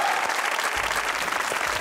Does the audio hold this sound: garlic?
no